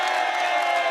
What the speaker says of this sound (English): Hear that applause?